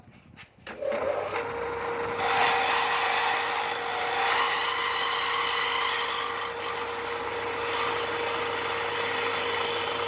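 A drill bores through the chain tensioner of a Honda Wave 110i motorcycle, a steady grinding, rasping whir that starts after a brief knock and runs close and loud without pause.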